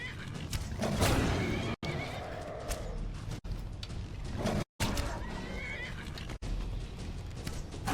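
Horse neighing in the Skyrim video game, a loud, close whinny layered with clip-clop hoofbeats and busy game sound, broken by a few abrupt silent gaps.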